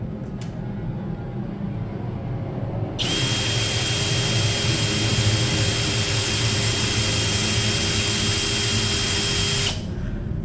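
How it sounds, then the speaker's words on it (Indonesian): A Dongcheng DCJ cordless brushless impact drill set to drilling mode in first gear spins up with a steady, loud whine that holds for about seven seconds before cutting off, with quieter background noise before and after. "Nih, kita akan coba di percepatan nomor 1 terlebih dahulu, modenya mode drilling"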